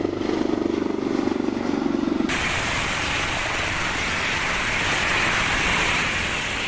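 Helicopter flying an evacuation escort, a loud, continuous rotor and engine roar that jumps abruptly to a harsher, broader rush partway through, with no voices.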